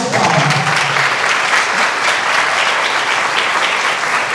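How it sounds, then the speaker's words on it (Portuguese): Loud, sustained audience applause at a university lecture on aesthetic biomedicine, a dense steady clatter of many hands with a brief voice at the start. "Uma salva de palmas."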